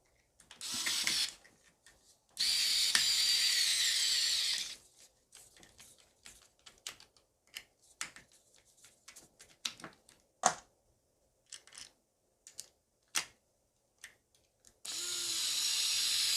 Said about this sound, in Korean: 요거도 역시 나사를 체결하겠습니다